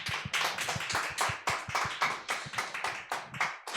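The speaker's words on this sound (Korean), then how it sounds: "우리 하나님께 영광의 박수." A church congregation claps together during an anniversary worship service, rhythmic, fairly close clapping in a steady beat, roughly four claps per second, with no talking.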